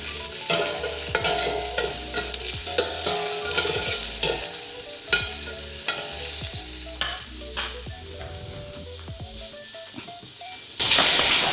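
Garlic and onion sautéing in a pan, sizzling and hissing steadily while being stirred, with intermittent scraping clinks of the utensil and a louder burst of sizzle at the end.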